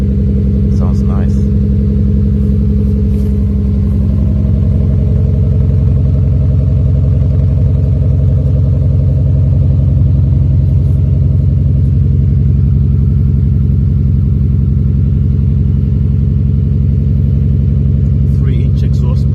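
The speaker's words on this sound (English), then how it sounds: "Silent high power exhaust. Sounds nice." A Toyota Supra engine with a 3-inch high-power exhaust idles with a deep, steady exhaust rumble, loud and close, holding an even low drone throughout.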